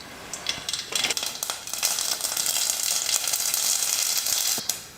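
Mustard seeds crackle and sizzle in hot oil in a heated pan, a close, steady hiss that builds quickly and holds, broken by small popping bursts, with no voices.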